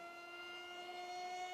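An EaglePower SA2306 2888 kV brushless motor on 3S spins a GF 6045 propeller, giving a steady high-pitched whine with strong tonal harmonics that holds and rises slightly as it winds out.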